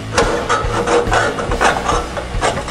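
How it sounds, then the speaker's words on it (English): A file rasps back and forth over the sharp cut edges of a steel exhaust pipe from a 2010-2013 Chevrolet Camaro SS Flowmaster kit, a loud, steady, close scraping rhythm of repeated strokes. "we're going to go ahead and deburr these sharp edges off here so when we clamp it on it won't get hung up"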